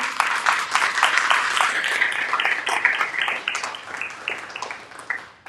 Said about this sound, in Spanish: También le brindamos un fuerte aplauso